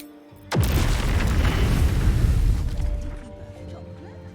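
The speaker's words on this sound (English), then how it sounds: "Everything exploded." A loud boom erupts in Baldur's Gate about half a second in, followed by a sustained rumbling, crackling roar that slowly fades over several seconds.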